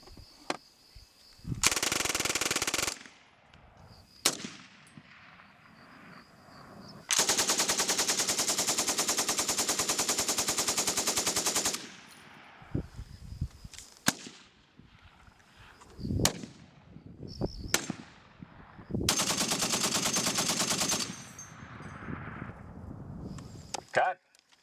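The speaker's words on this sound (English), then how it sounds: "this is gonna be a 12-gauge shotgun" A 12-gauge shotgun is fired in several bursts during a sound-effects recording session for Transformers: Dark of the Moon. Loud, dense volleys of rapid reports alternate with quieter gaps of handling noise.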